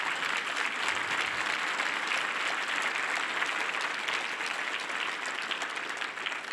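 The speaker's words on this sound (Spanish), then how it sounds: "un aplauso de gloria a nuestro Señor Jesús." Congregation at a church sermon applauding together, a steady, dense wash of many hands clapping that holds at an even level throughout.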